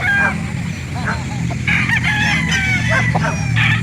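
Several roosters crow and cluck at a rooster market in Calauan, Laguna, their calls overlapping against a constant low hum of crowd noise.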